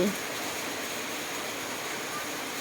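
Rain falls steadily outdoors in Thailand, an even, dense hiss with no breaks that holds at one level throughout.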